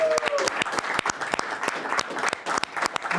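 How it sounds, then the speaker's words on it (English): Hall of fame audience applauding for an inductee, a dense burst of clapping with sharp individual claps standing out, steady and fairly close throughout. "So one more round of applause for Tyler,"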